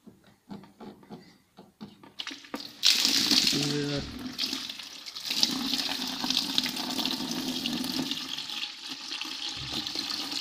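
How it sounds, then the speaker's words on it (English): Coolant draining from a hose on a Citroen C-Elysee 1.6 HDi during a timing belt replacement, heard as a rushing, splashing flow that starts suddenly and keeps running steadily after some handling clicks, with a voice speaking briefly. "Now we can remove the hose and the coolant is going to drain."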